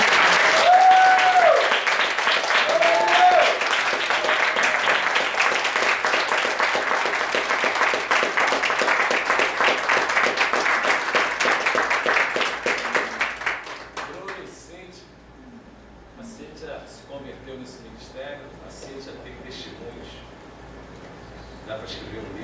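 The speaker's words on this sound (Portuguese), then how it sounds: "Estoura essa igreja com as palmas para o Senhor." A church congregation at a Sunday service bursts into loud, sustained applause for about fourteen seconds, then the clapping fades and a voice continues speaking at a lower level.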